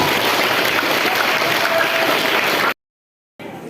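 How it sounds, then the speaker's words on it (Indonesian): Audience applause at a Maulid Nabi and Santri Day celebration, a dense, steady wash of clapping that cuts off abruptly into silence, then resumes faintly for a moment. "Tepuk tangan."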